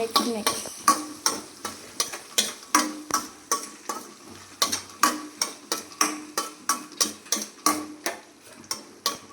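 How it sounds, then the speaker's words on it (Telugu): Onion and green chilli are stirred in a pan for upma, with a spoon scraping in a steady rhythm of sharp, evenly spaced strokes over a faint sizzle. No one speaks. "కొంచెం ఆనియన్, తర్వాత పచ్చిమిర్చి, మళ్ళీ మిక్స్."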